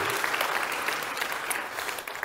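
A church congregation claps hard and steadily in a dense, continuous burst of applause filling the room, with no voices standing out.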